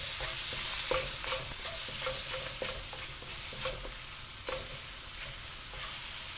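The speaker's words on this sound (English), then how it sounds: "mix that in and start it frying" Pieces of chicken sizzle and crackle in a hot pan, with intermittent scraping and clicking as a utensil stirs them, close and steady.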